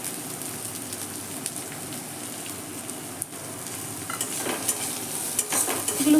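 Chopped onion and garlic frying in a pan give a steady, close sizzle throughout, with stirring scrapes and a few louder crackles building toward the end.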